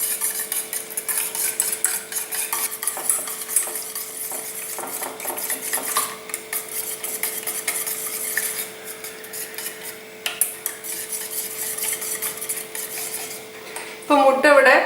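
Eggs are beaten in a bowl with a utensil, giving a fast, steady run of clinking and scraping that carries on without pause, close and fairly loud, with no talking.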